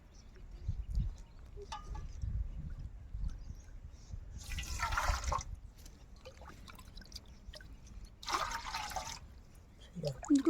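Salt water being poured through a filter at home while making salt, with two broad splashing bursts of pouring set against a low, murky background.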